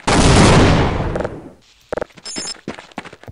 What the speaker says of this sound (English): Guess it's time for another grenade.